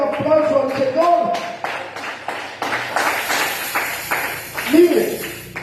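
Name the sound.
congregation applause in church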